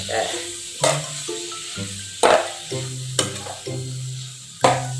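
Minced pork stir-frying in a pan for spicy larb: a steady sizzle broken by repeated sharp scrapes and clatters of the spatula, close and fairly loud, with no talk.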